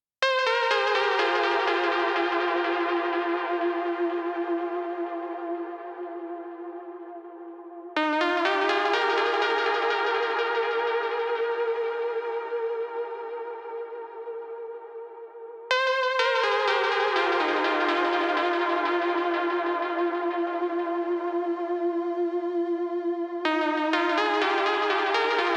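Trance synth prelude run through effects units, with sustained distorted chords swelling and decaying in long repeated phrases with echo and chorus, loud and alone with no voices.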